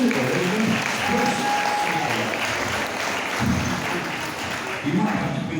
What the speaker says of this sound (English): let's give them a nice big round of applause for Pole Dorset